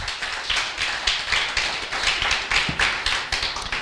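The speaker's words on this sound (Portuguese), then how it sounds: "Aplauda Jesus de Nazaré." An audience claps along in a steady rhythmic beat, loud and close, sharp repeated claps forming a regular pulse with no voices.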